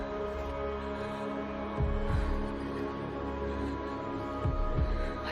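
A heartbeat sound effect from a video game trailer thumps in two paired, deep beats over a loud droning hum and dark ambience.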